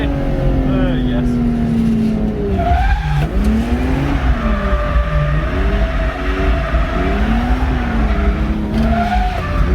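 A BMW E36 drifts through a greasy S-bend at Raleigh Matsuri, tires squealing in repeated wavering howls over a constant loud engine roar, close and sustained throughout.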